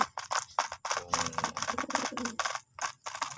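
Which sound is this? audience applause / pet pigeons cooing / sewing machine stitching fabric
pet pigeons cooing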